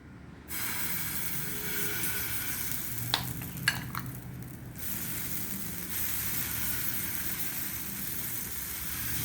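Potato semolina sandwich batter poured into a pan sizzles with a steady, soft frying hiss, punctuated by a couple of brief clinks partway through.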